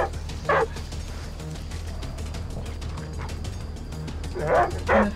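A dog barks in the video game The Olive Grove: a single short bark near the start and a closer pair of barks at the end, over a steady mechanical hum and soft ticking.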